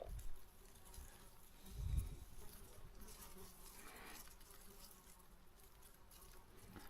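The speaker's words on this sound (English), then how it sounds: "I can hear a lot of buzzing here, but here it's only like normal flies" Ordinary flies buzzing around thick raspberry bushes, a faint continuous hum with a couple of soft rustles and bumps.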